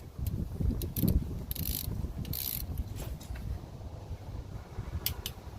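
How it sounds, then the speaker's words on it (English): A wrench torques the bolts on a differential cover, giving short bursts of ratcheting clicks at irregular intervals, close by, against a low mechanical rumble. "skip this bolt and go to the next one, and torque it"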